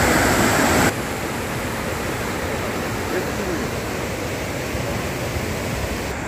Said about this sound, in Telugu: అండ్ ఫుల్ వాటర్ ఫ్లో అవుతుంది ఇక్కడ.